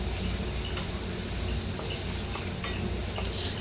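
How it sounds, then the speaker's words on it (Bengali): Spices with dried red chillies sauté in oil in a pan, a dense close sizzle with light, regular ticking scrapes of stirring. "খুব সুন্দর করে আমি কষিয়ে নিচ্ছি"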